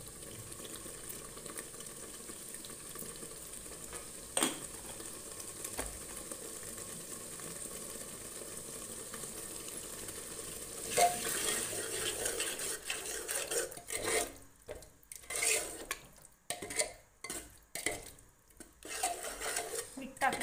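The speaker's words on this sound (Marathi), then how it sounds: "मोठ्या गॅसवर ही परतून परतून घ्यायची आहे" Masala vadi sautés over a high flame as a utensil scrapes and stirs in the pan, with a low sizzle and a burst of irregular clinks and scraping toward the end.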